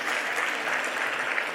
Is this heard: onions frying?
no